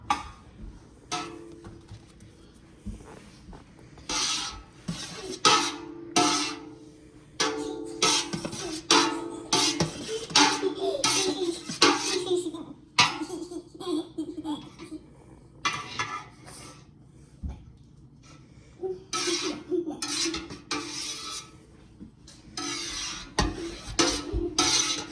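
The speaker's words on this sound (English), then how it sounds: "I'm just gonna cut this curd in a grid. Got my cheese knife or my cutting knife." A knife cuts cheese curd into a grid in a pot at a farm dairy, making repeated clinks and scrapes of metal against the vessel in irregular bursts with quiet gaps between them.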